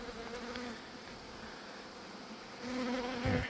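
Honey bees buzz steadily in an open hive during an autumn inspection, a close continuous droning hum that swells slightly louder near the end, with no talking.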